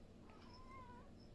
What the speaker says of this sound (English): Meow. My cat's made herself known.